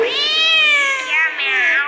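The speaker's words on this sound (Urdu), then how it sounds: "بلی بولی کیا میاؤں" A cartoon cat gives one long, loud, drawn-out meow, up close and alone.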